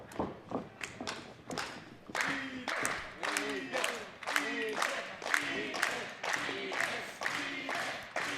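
Hometown wrestling crowd at a 1993 High Tension Wrestling event cheering for Edith Surreal, a steady roar of voices and scattered claps and thumps, with commentators talking over it throughout.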